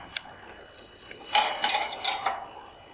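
Adjustment knobs on a Winegard TR-6100 portable satellite dish tripod are snugged down, giving a short run of close, quiet clicking and ratcheting squeaks after a couple of isolated ticks, with no talking.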